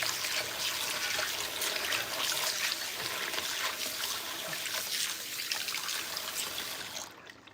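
Used water poured away in a kitchen while making breakfast, a steady close splashing gush that runs continuously, then tapers off near the end.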